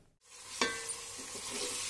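Spices fry in hot oil for a biryani tadka, giving a steady close sizzle with a sharp burst as the pot is stirred, and no one speaks.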